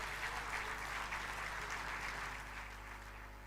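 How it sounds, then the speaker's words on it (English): Applause from an audience at the 19th Bharat Asmita National Award ceremony in 2023, honouring a man's 82nd birthday. The clapping is steady, broad and fairly distant, holding for a few seconds before easing slightly. "So let us give a big round of applause."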